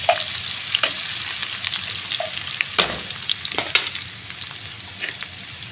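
Onions, cumin, mustard seeds and curry leaves fry in hot oil, giving a bright continuous sizzle broken by scattered crackles and spatter pops, loud and close with no talking.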